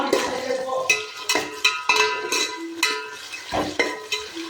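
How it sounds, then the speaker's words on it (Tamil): Small onions frying in a pan for chicken dum biryani, loud close stirring strokes scraping and clanking against the pan in an irregular rhythm over a light sizzle. "இந்த வெங்காயம் கலர் வந்து நல்லா கோல்டன் ப்ரௌனாக வரட்டும். ஸோ அது வரைக்கும் நம்ம நல்லா வேக விட்டுருவோம்."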